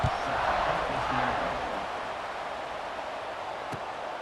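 Stadium crowd roaring at a college football game in EA Sports College Football 26, a broad, loud cheering wash that fades slightly while a voice talks over it early on.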